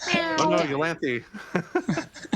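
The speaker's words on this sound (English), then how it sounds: "No, that's my cat." A pet cat meows loudly and drawn-out up close, its cries mixing with a person's voice talking over and right after it.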